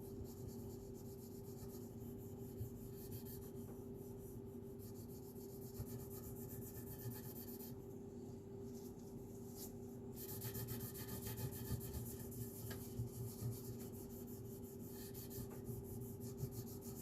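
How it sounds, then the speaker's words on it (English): Soft, steady rubbing as Tru-Oil is worked by hand into the heel of a roasted flame maple guitar neck, a quiet continuous friction sound under a constant background hum, growing slightly stronger partway through. "I'm just going to rub a little bit around the heel."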